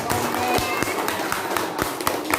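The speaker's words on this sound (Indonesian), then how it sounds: "Terima kasih tepuk tangan untuk kelompok" Classroom applause for a student group after its presentation: scattered, uneven claps with sharp taps that carry on steadily and fairly close, with faint voices underneath.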